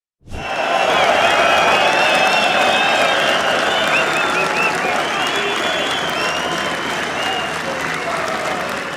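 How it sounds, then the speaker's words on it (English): The Gleneagles golf crowd roars and applauds as Europe wins the 2014 Ryder Cup: a sudden, loud, sustained wall of clapping and cheering that holds steady to the end. "McDowell celebrated, the crowd roared"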